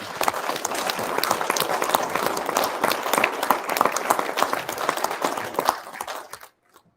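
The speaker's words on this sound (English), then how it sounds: "Give them another round of applause." Audience applause at a Michigan campaign kickoff event, a dense crowd clapping loudly and steadily for several seconds before stopping abruptly.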